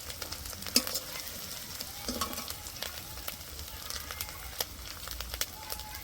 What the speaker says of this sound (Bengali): পেঁয়াজটা একটু ভেজে নিয়েছি, এবার দিয়ে দেবো কুচি করা কাঁচা লঙ্কা।